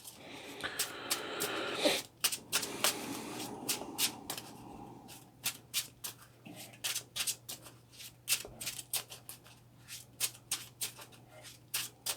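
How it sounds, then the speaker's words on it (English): Playing cards for the Marvel Champions card game being shuffled by hand, a close run of crisp riffling and flicking bursts, dense at first and then in shorter irregular clusters, with no talking. "forgot to shuffle"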